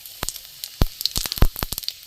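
Panch phoron spices hit hot mustard oil in a pan, giving off a series of sharp, irregular crackles and pops over a faint background sizzle.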